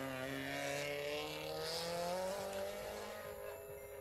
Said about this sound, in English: Motorcycle drivers at like 2 a.m. am I right?